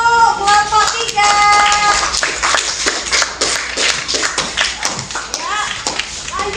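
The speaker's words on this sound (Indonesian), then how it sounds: "tepuk tangan untuk kelompok 3" Applause for a student group in a junior high school science class on heat transfer: a steady patter of many hands clapping fills the room for several seconds, mixed with children's voices and chatter.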